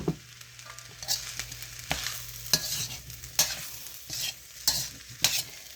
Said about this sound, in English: Then you just keep stirring it until it's all fried together.